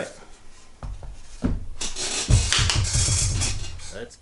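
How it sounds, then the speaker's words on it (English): Sandpaper rubbing over guitar wood in quick back-and-forth strokes, close and fairly loud, with a few short scrapes before steady sanding sets in. "I just went ahead and sanded it with some 120, 240"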